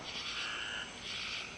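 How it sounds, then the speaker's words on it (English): A gray tree frog gives a trilling call twice in quick succession in a mountain forest in Tennessee at night, fairly close and clear over a quiet background. "that's a gray tree frog"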